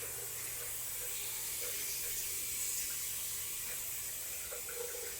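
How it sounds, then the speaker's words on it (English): Water runs in a shower, a steady, faint hiss that holds constant for several seconds with no voices. "Shower time."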